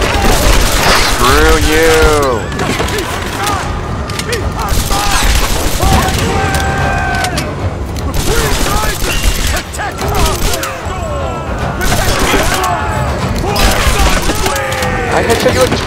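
Repeated pistol gunfire in the Tomb Raider video game cracks out in rapid bursts amid combat effects, crashes and enemy shouts, with a player voice shouting over the action.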